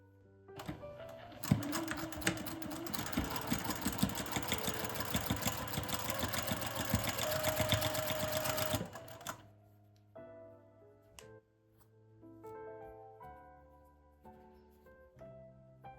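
A sewing machine stitches a french seam in a rapid, steady buzzing run for several seconds, near and fairly loud, then stops, leaving a few faint handling clicks and quiet taps.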